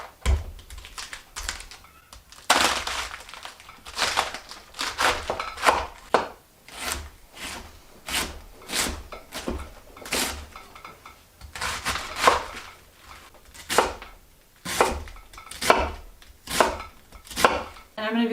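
A knife chops through cabbage on a board during a garden harvest, steady crisp thuds repeating in a fairly regular rhythm for many strokes, close and loud, with no talking.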